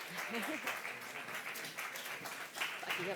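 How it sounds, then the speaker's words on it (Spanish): Audience applause at a Paralympic trainers motivational conference, a continuous fairly quiet clapping from a crowd with voices speaking and murmuring over it. "Un fuerte aplauso para Carla."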